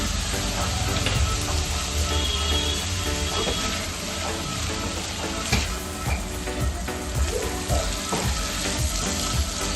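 A masala base for prawn malaikari, thinned with a little water, sautés in a pan with a loud, continuous frying sizzle and occasional stirring scrapes, no voices over it.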